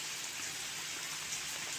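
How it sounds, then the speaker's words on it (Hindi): Steady rain falls in cloudy, misty hill weather, a dense even hiss of drops on surfaces heard close and alone without any voices. "आज फिर बारिश"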